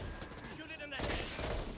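Rapid gunfire bursts in the zombie shooter video game Back 4 Blood, a dense close volley with a voice shouting over the shots.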